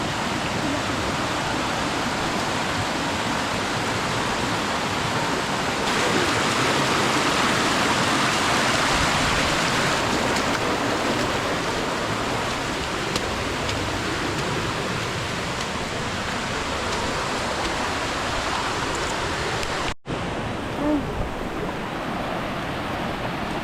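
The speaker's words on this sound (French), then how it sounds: "On traverse des petites rivières." Small streams running on a rainy, muddy hike in Martinique give off a steady, broadband rush of flowing water, loud and close, with rain and wind mixed in and no voices.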